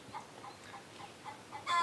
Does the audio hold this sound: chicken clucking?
yes